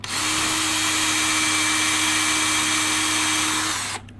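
A power drill with a 2.5 mm bit runs in one steady, loud, close whine for about four seconds while boring through a metal part for Yamaha XSR 700 motorcycle bars, then winds down.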